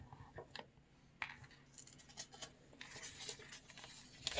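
Colored paper being folded and creased by hand: quiet close scrapes and rubbing swipes in short bursts, with a few crisp taps, faint overall and without talk.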